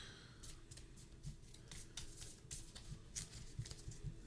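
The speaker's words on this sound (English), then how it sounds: "Shuffle our deck." Rapid papery riffling of a Marvel Champions card game deck being shuffled, with repeated crisp bursts close by over a low background hum.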